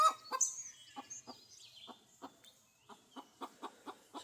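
A bird calls from a beech tree in sunny woodland, a series of short, sharp, fairly faint notes spaced irregularly over a quiet background.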